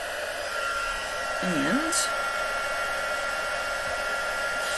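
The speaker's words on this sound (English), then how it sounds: "I'm going to take my heat gun, warm it up," A heat gun runs steadily, drying puff paint on a craft card laid flat over a protective surface, with a continuous close, loud hiss throughout and a brief spoken word.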